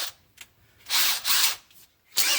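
A power drill bites into the steel seat pan of a 1973 Mustang Mach 1 during restoration, with three short, close, loud whirring bursts separated by brief pauses and faint clicks.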